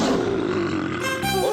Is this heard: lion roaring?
yes